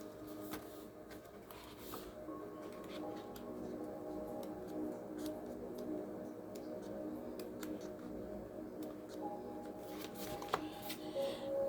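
A tarot deck is shuffled and cards are drawn and laid down, with soft continuous riffling and slides and a few sharp card snaps near the end. The sound is quiet and close, with no talking.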